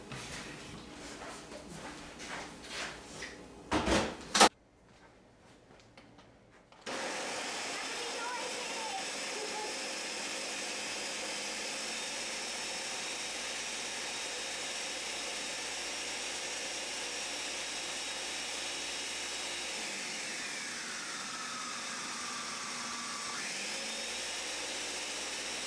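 After a few clattering knocks and a brief pause, a blender blending almond milk roars to life and runs at a loud, steady whir, its pitch dipping once near the end.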